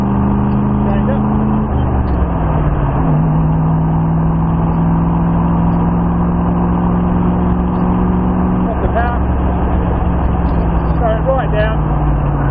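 An AC Cobra's engine pulls hard around a race track, its deep exhaust note rising through the gears with a drop at each change, loud and close throughout, with an instructor talking over the engine.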